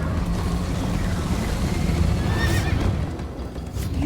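A horse in the video game Minecraft: Story Mode whinnies during a ride, with a loud neigh over a continuous rumbling gallop of clip-clopping hooves and rushing wind.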